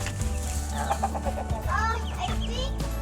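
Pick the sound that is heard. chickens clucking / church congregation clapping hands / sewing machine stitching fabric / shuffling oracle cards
chickens clucking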